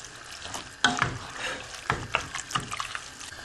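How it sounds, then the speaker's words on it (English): Spaghetti carbonara being stirred with its sauce in a pan: close wet squelching and scraping strokes with soft sizzling, several distinct stirs over a few seconds, no talking. "let's give that a blooming good stir around together"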